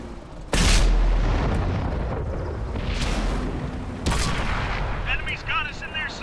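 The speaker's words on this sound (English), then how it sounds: "Artillery, he nailed them." Artillery shells land in a tank battle video game, a Panzer IV S match: two heavy booms a few seconds apart with rumbling tails over battle noise, and a brief voice near the end.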